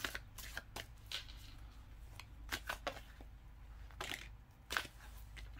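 Tarot cards shuffled close by, soft irregular riffles and slides over a low steady background hum, quiet throughout.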